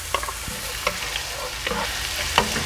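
Onions fry in hot oil in a wide pan, making a steady low sizzle with a few sharp stirring scrapes of a utensil across the pan.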